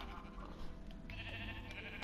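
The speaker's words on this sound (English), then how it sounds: "Oh, I found a bunch of sheep." Sheep bleating in Minecraft, a few short blocky bleats over steady game background sound, moderately close and fairly quiet, with no talk over them.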